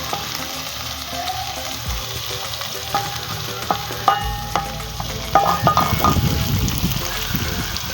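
Spring onions fry in palm oil with a constant crackling sizzle, broken by utensil taps and scrapes while being stirred, growing louder and more bubbly toward the end, close up with only faint speech.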